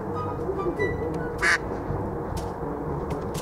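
Ducks quack a few times over a steady outdoor background at an autumn show-jumping competition, with one louder, sharper call standing out midway.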